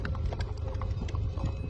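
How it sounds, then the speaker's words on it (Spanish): Horses' hooves clip-clop in a quick, irregular patter close by, a short burst of rapid hoof knocks over a low rumbling background. "hoy con estos preciosos caballos"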